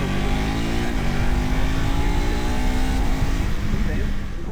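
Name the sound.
KTM 390 Adventure X motorcycle engine revving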